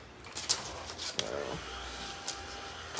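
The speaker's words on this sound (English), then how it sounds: "It's a little craft heat gun. It does dry fast because, like I said, it dries like chalk." A small craft heat gun blows steadily while drying chalk paint on a black canvas, a continuous close, moderately loud airy whir with a few brief knocks and clicks.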